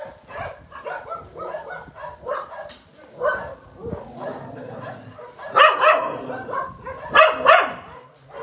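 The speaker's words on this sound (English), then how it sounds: "happy doggies." Several dogs bark, yip and whimper in short, uneven bursts at home, some calls close and loud, others softer, with louder excited yelps building toward the end.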